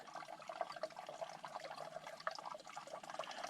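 Water runs into containers being filled at a campsite, a faint, continuous trickling splash with small irregular bubbling bursts and no voices.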